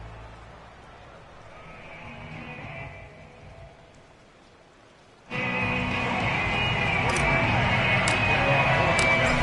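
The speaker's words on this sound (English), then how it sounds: "The rain set to continue as we are underway in the second half." Steady rain hisses over a Madden 22 football game, faint at first and then suddenly loud and constant with a few sharp ticks, while a voice talks over it.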